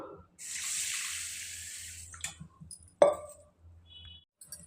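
Water runs briefly from a tap into a vessel holding boiled idli rice for soaking, a short close splashing stream followed by a sharp clink of a tumbler and a few faint knocks.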